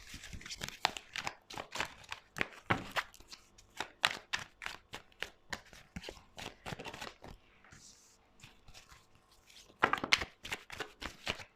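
Tarot cards are shuffled close up in a series of quick, crisp riffling bursts with short pauses between them, fairly quiet and with no talking.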